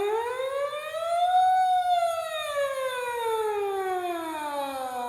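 A French horn plays a smooth warm-up glissando from the upper mid-range, climbing over about a second and a half, then sliding slowly back down in one even, sustained, close tone with no talking.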